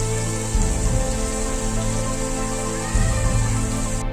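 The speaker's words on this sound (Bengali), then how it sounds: "অঝোর বৃষ্টি হচ্ছে।" Heavy rain falls hard and continuously, a thick close patter on surfaces with slight surges in intensity and no voices.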